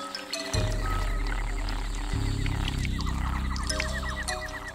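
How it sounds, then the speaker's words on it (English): Bright red strawberry poison dart frog, a tree-climbing species, calling in the jungle along Costa Rica's Tortuguero Canal; short, rapid chirping croaks repeat over a steady, loud low drone. "We stay at a safe distance from the bright red strawberry poison dart frog, a tree-climbing frog"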